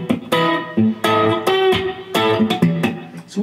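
Electric guitar plays measure 106 of a song from a live version, a run of loud, sharply struck chords and single notes in a halting rhythm, heard alone and up close.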